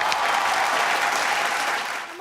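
A game show studio audience breaks into dense, sustained applause that starts at full volume and fades out at the end.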